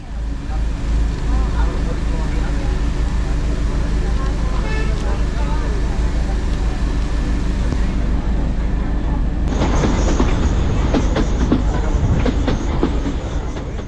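A 110-year-old heritage train running from Bilimora to Waghai rumbles steadily with rattling carriages and wheel clatter on the track, close and continuous, with a voice talking over it.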